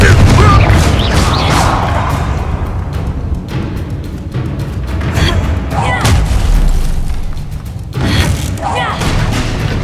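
Confringo spell from Hogwarts Legacy, heavy booming blasts and rumbling impacts that repeat loudly through the clip amid dense game-battle noise and other layered effects.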